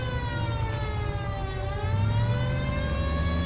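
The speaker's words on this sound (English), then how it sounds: "you hear the siren?" A police siren in a video game wails continuously, rising and falling in pitch, with a low engine rumble underneath.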